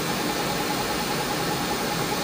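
Electronic leadscrew on a Clough42-converted lathe turning slowly in reverse with the half nut engaged, giving a steady, even mechanical hum and faint whir that stays constant throughout, with no speech.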